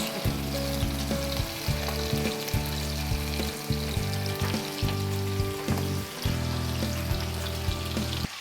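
Fish sizzles and crackles in hot oil in a pan, a loud continuous frying hiss punctuated by regular clinks and scrapes of a utensil.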